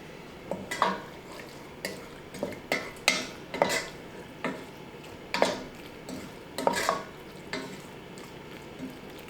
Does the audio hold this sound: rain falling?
no